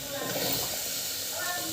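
Pieces of taro root hit a hot pan seasoned with turmeric and spices, making a brief, steady broadband sizzle that stays close and even throughout.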